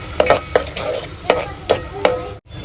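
Onions with chillies and tomatoes being stirred in a pan for a Kathiawadi dish, with a soft sizzle under repeated scraping strokes of a spoon against the pan, roughly every half second, close and moderately loud.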